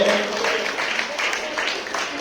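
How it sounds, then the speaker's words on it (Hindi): Applause from a women's gathering welcoming a former MLA guest speaker, dense clapping throughout, with a voice talking over it. "सभी मैडम प्रेमलता जी का तालियों से स्वागत करेंगे"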